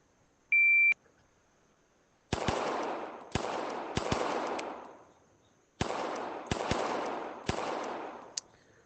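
Shot timer gives a single short electronic start beep during a VR pistol drill at 7 yards, followed by a rapid string of sharp gunshots in quick pairs and singles, close and loud.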